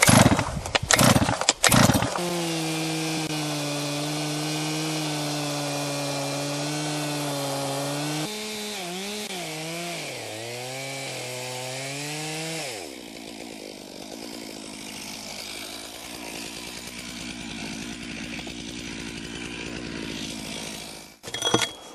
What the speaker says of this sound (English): let's cut some stumps down to the ground